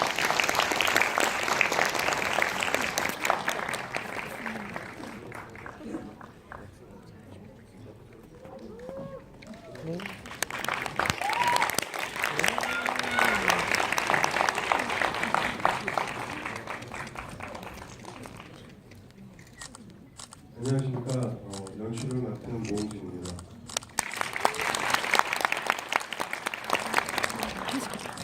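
Audience applause welcoming a film director and actors at a screening event, long stretches of dense clapping that fade and swell again, broken by someone speaking into a microphone.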